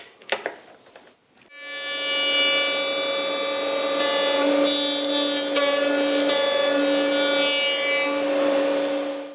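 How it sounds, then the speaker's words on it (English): A power tool cutting through a piece of MDF, a few light knocks at first, then a loud, steady high-pitched buzzing whine that runs close and unbroken to the end, no speech. "I've just cut this piece of MDF out"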